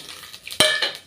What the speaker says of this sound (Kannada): ಈಗ ಕುಕ್ಕರ್ಗೆ ಆಲ್ ಸ್ಪೈಸ್ ಎಲ್ಲ ಹಾಕ್ತಾಯಿದ್ದೀನಿ.